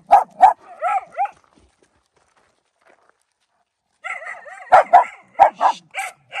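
An old dog barks loudly and close by outdoors, a quick burst of several barks and yips, a short silence, then another rapid run of barks and yelps.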